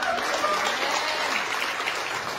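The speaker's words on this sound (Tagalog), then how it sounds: "Celebrate. Palakpak." A congregation claps at an anniversary church service, a dense, even wash of hand claps lasting a couple of seconds with faint voices underneath.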